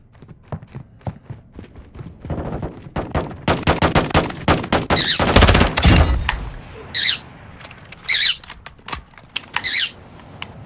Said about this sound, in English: Someone just shot at me.